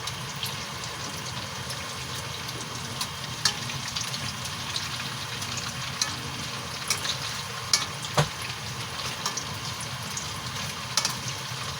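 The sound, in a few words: fried tofu sizzling in a pan as it is flipped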